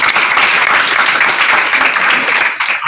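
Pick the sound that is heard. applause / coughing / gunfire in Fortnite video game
applause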